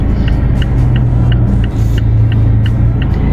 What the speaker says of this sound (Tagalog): ang bibilis ng mga sasakyan.